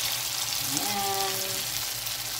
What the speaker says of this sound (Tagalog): magsugod na tag prito sa atong meatballs